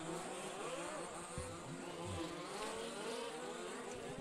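Large-scale RC off-road race cars at an EFRA championship qualifying heat buzz around a dirt track with jumps, their small engines whining and revving in a faint, continuous overlapping drone.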